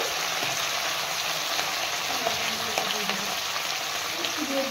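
Steady, close sizzling of whole cinnamon, cardamom and cloves tempering in hot oil for a vegetarian potato curry, a continuous crackling hiss with occasional small pops.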